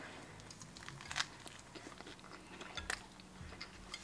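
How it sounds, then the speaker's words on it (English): Crunchy bites into a spicy meatless burger with sriracha, a few sharp crisp crunches followed by soft chewing, close and fairly quiet with no talking. "Of course, the burger is crunchy."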